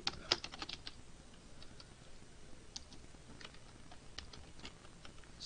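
Keystrokes on a computer keyboard, a steady run of light, quick clicks with irregular rhythm, close and fairly quiet, with no voices.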